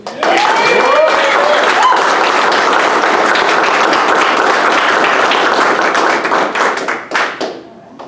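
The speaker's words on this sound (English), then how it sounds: "Let's give a round of applause to our newest Dirtboyz." Audience applause at a military civil engineer graduation ceremony, a dense, loud wash of many hands clapping that holds steady for several seconds, with brief cheers near the start, before thinning out and fading at the end.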